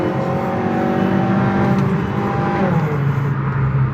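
A Mazda CX-3 2.0 accelerates steadily while driving, with the engine drone climbing in pitch, dipping briefly as if through a gear change, then pulling again, heard from inside at moderate loudness.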